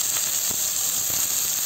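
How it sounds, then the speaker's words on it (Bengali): Spice paste for sambar fries in a little hot oil in a heated kadai, giving a steady, close sizzling hiss throughout the short moment with no voices. "এই যে পেস্ট কটা ভাজে নেবো"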